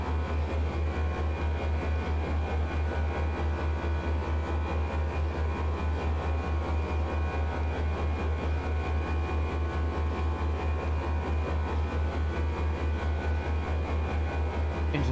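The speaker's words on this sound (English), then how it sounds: "Engines sound a little weird, don't they?" Flight Factor A320 jet engines in a flight simulator game, heard as a loud, steady low drone with a constant hum that holds unchanged throughout, with no voices.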